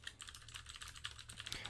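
Rapid typing on a computer keyboard, a quick irregular run of light clicky keystrokes heard close but very quietly, with no voices.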